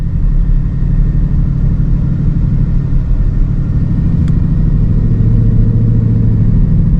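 A 2026 Ford Mustang GT's 5.0 V8 engine idles and rumbles steadily close by, with a low throaty growl that swells slightly near the end.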